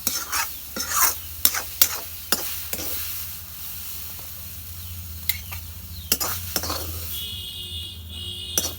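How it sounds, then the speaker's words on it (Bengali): Greens fry in a pan as a spatula strikes and scrapes it in sharp, repeated clacks over a soft sizzle. The stirring is close and loud at first, then quieter with a faint steady tone near the end. "শাক ভাজা হয়ে গেছে এখন আমি নামে নেব"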